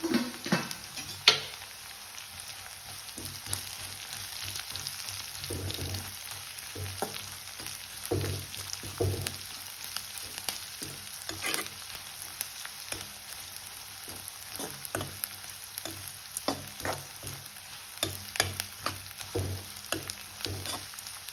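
Curry leaves fry in hot oil in a pan for Bombay-style aloo sagu, a continuous close sizzle broken by repeated scraping taps of a spoon stirring.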